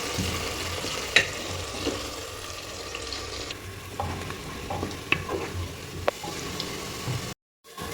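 Onions frying in a pan for mutton biryani, a steady close sizzle with occasional spatula scrapes and sharp clicks, continuing for several seconds before a brief drop to silence near the end, with no speech.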